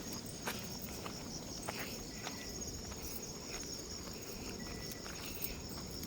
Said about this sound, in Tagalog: Wala ka maririnig dito kundi kuliglig.